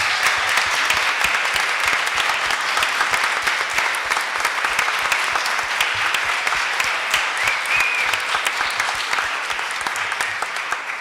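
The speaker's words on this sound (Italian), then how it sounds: "Possiamo fare un applauso a loro?" A church congregation at an evangelical worship service in Verona gives sustained, dense applause, a steady even clatter of many hands that holds for several seconds without talk.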